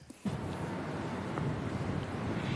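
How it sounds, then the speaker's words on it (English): Strong wind roars and buffets the microphone continuously at close range in Gainesville, a broad rushing noise that starts abruptly and holds steady throughout. "And the wind, I didn't know it could be so windy."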